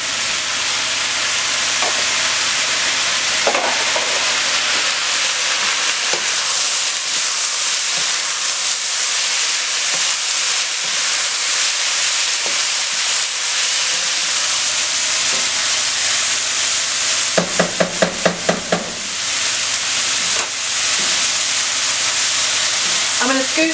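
Zucchini and scrambled eggs stir-fry in a wok, a steady loud sizzle and hiss throughout with occasional scrapes and clinks of a utensil against the pan, plus a quick rattle of taps near the end.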